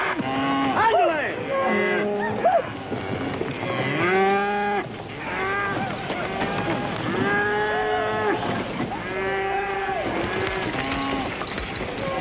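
A herd of cattle moos repeatedly, many long, drawn-out lowing calls overlapping near and farther off, with a continuous bustle of the herd underneath.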